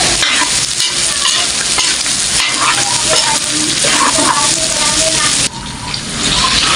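Chicken breast and squid balls fry in a hot pan, a steady loud sizzle with stirring scrapes running throughout, dipping briefly near the end.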